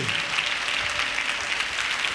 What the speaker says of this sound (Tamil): நல்ல கைதட்டு.